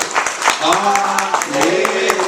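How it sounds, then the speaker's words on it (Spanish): A church congregation claps loudly and rapidly in praise during a Spanish-language service, with bursts of hand claps running through the whole stretch while voices call out and talk over the applause. "Den un fuerte aplauso al Señor"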